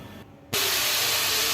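Potatoes frying in a pan for a vegetarian home-cooked meal: a sudden loud, steady sizzling hiss cuts in after a brief quiet moment and continues evenly without any voices.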